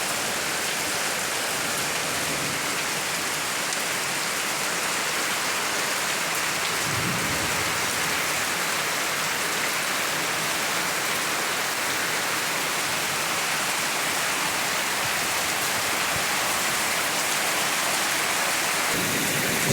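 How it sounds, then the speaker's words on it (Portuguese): Heavy rain with hail pounds down in a dense, continuous roar during a New Year's Day storm in São Lourenço da Serra, São Paulo, with low rumbles of thunder rolling beneath the steady downpour. "Gente, é chuva de granizo."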